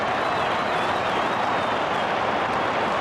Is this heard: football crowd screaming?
yes